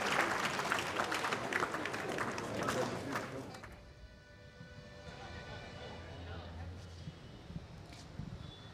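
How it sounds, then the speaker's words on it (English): Dense audience applause fills a conference hall at the 58th Commonwealth Parliamentary Conference in Sri Lanka, then thins out after a few seconds into a quieter room tone with scattered faint noises. "Clap very big hands for yourselves."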